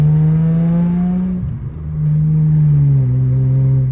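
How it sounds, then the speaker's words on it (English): Holden VY Commodore exhaust droning loudly at close range while driving, a steady low note that dips briefly as the engine eases off, then settles back to a constant hum. "all you can hear is that shitty ass exhaust"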